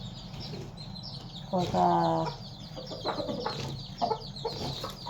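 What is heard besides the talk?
chicken clucking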